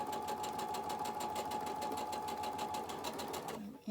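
Sewing machine stitching down a quilt seam allowance, a steady rapid whir of the needle running close and continuous for most of the stretch before stopping abruptly near the end.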